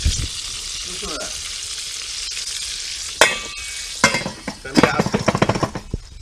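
Bacon and pork sizzle in a pan on the stove, a steady close frying hiss broken by sharper crackles, clinks and stirring scrapes that grow busier toward the end.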